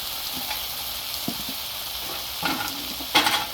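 Shrimp lo mein with vegetables sizzles steadily on a Blackstone griddle, with scattered scraping and stirring strokes and a louder clatter of the scoop near the end.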